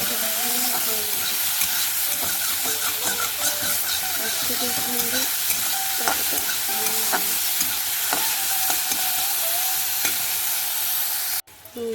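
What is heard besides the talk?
onion frying in a pan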